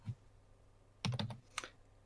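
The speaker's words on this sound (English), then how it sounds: "She's typing it." Someone types on a computer keyboard, a short quick burst of close key clicks after a soft tap, with no voices heard.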